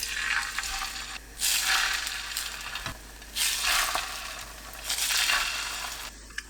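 Egg-coated acorn jelly dusted in frying mix goes into a preheated, oiled pan over medium-low heat, sizzling up in three separate bursts that swell and fade, close and fairly loud with no voices.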